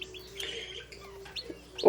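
Americana chicken hens cluck and chirp softly in short, scattered calls, close by, with a faint steady hum underneath.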